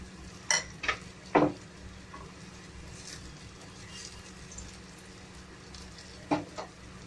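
A Spanish omelette cooking in a covered pan over a low flame gives off a steady, faint sizzle, with a few brief clinks of a pan or utensil near the start and end.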